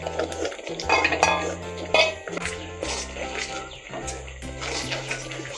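A spoon scrapes and stirs thickening beetroot laddoo paste in a metal pan, with repeated close clinks and scrapes in an irregular rhythm and a faint cough partway through.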